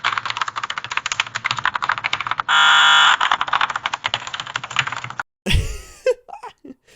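Very fast AI-generated keyboard typing, a dense rapid clatter of keys broken by a loud continuous beep, then a short glitchy burst and a few scattered clicks.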